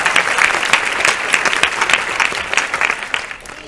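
An audience at a Horrible Histories series five launch Q&A claps for the show's team, dense steady applause close up with no talk over it.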